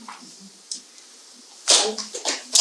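A sneeze bursts out loud and close in a quiet room during a poetry reading, with a brief breathy tail and someone speaking right after.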